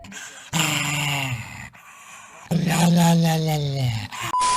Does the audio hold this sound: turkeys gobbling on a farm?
no